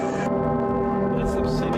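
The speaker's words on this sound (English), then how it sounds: "The bells that sound every 15 minutes is Mary of the Assumption and Mary of the Seven Dolours." Church bells that ring every 15 minutes ring out with a sustained, resonant tone, their layered overtones humming steadily throughout.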